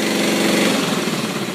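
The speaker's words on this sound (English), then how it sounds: "Turn this valve off, it should shut off the engine." A wood gasifier-fuelled engine runs at a steady, loud, close rumble with a rapid pulsing beat throughout.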